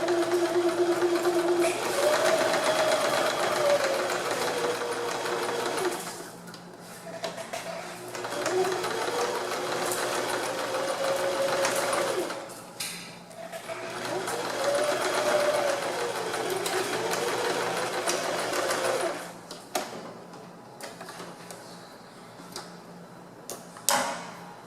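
A sewing machine stitches zigzag pleats on a fabric cap in bursts of steady whirring, pausing briefly between runs, close and clear with faint handling sounds and no speech.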